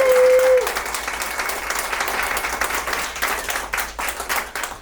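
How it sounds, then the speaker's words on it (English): Audience applause breaks out for a competitor at a spoken-word poetry battle event, a dense sustained clapping crowd that stays loud throughout with slight dips near the end. "y'all. Give him a round of applause."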